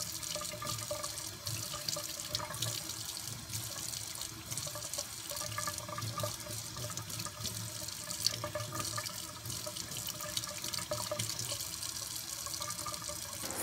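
Tap water runs steadily into a sink while an Artis makeup brush head is rinsed and wetted, a continuous splashing hiss with small shifts in flow throughout.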